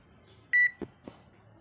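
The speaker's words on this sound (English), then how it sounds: "The application will be automatically closed after the beep." A single short electronic beep, clear and steady, followed by a couple of faint soft knocks in a quiet room.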